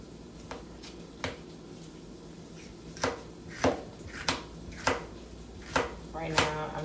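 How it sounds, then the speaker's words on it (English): A knife chops the last of an onion on a cutting board in a home kitchen, giving sharp, separate thuds at an uneven pace that grow quicker and louder toward the end, with no voices. "Right now, I'm just cutting up the remainder of the part of the onion that I'm going to cook with"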